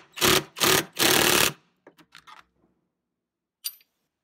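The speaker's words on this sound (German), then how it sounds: "Wir werden die jetzt einfach mit dem Schlagschrauber festziehen." An impact wrench tightens a seat belt bolt inside a VW Golf 4 in three loud, close hammering bursts, followed by faint clicks and small rattles as the work settles.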